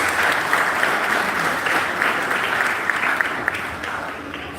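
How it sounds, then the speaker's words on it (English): Applause from an audience at a 2024 high school graduation ceremony, steady and sustained for several seconds, gradually tapering off toward the end. "Give them a round of applause."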